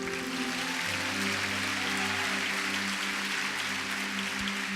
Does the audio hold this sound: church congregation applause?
yes